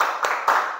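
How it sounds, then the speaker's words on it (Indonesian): Schoolchildren in a classroom clap in unison, with two sharp group claps standing out over a steady wash of background noise. "kalau masih semangat kita bertepuk semangat dulu ya"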